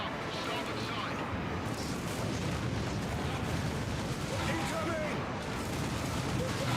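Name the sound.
heavy bolter gunfire in Space Marine video game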